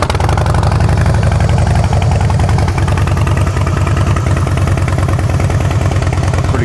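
A 2009 Harley-Davidson Rocker motorcycle engine idles loudly and steadily at close range, a dense, continuous lumpy rumble with no talk over it.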